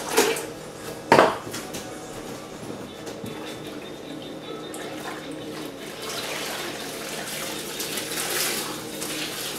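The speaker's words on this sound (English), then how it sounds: "All I do is I squeeze the water out," Laundry sloshed and squeezed in a bucket of water in an off-grid hand-washing setup: two sharp splashy bursts near the start, then softer continuous dripping and swishing nearby.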